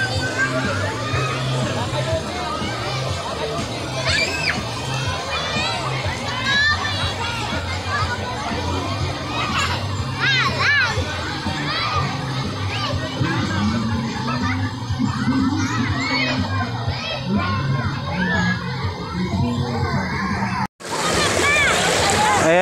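Crowd of adults and children bathing and splashing in the Mananap River in San Vicente, with steady water sloshing under a constant babble of voices and children's shouts, the general hubbub continuing throughout.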